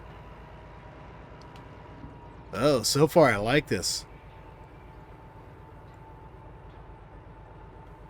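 A DH4 diesel locomotive in the train game Derail Valley gives a steady low engine drone under gentle throttle, with someone speaking briefly over it.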